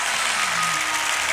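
An audience at a stage show applauds in a continuous, dense patter of many hands clapping.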